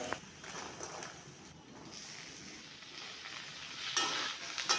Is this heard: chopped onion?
yes